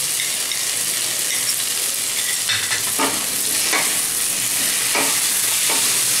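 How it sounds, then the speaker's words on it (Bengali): Chilli paste and ginger fry in hot oil for a Bengali bhagon fish curry, giving a loud, continuous close sizzle with a few scraping stirs of a spatula against the pan and no talk. "একসাথে আমি ভাজবো দিয়ে এবার লঙ্কাটা লঙ্কা বাটাটা দিয়ে দেবো আদাটাও দিয়ে দেবো"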